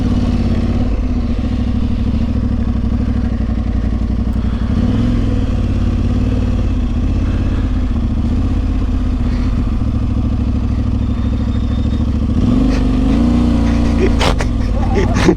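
Royal Enfield Himalayan motorcycle on trails, its single-cylinder engine a loud steady close rumble with a few rises in revs and some rattling and wind toward the end.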